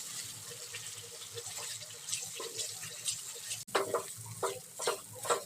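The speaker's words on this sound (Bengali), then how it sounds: "দেখুন বন্ধুরা, এটার আর কিছুক্ষণ ধরে পাক দিয়ে রসটাকে শুকনো করে নেব।" A nolen gur sandesh mixture is stirred in a pan to dry off its syrup, giving a steady close scraping and soft sizzling with irregular wet clacks of the spoon against the pan.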